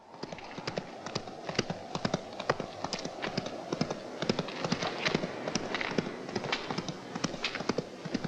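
A horse's hooves clip-clop in a quick, regular rhythm as a rider sets off on horseback, crisp sharp strikes repeating steadily over a low outdoor background.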